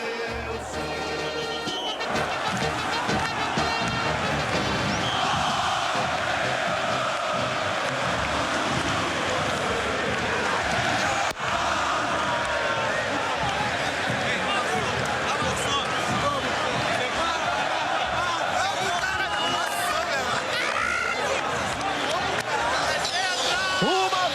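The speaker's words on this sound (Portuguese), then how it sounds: "Aí os jogadores do Flamengo agora comandando o grito com a torcida, tá lindo." Flamengo players lead a chant with a huge stadium crowd after winning the Copa Libertadores, a dense, continuous roar of massed voices that sustains loudly throughout, with a commentator talking over it.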